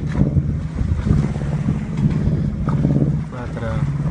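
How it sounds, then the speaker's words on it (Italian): Strong gusting wind buffets the microphone over choppy waves while a paddler works through open water, a continuous rough low roar with splashes and no clear voice. "c'è molto vento forte e onda, ma soprattutto vento forte."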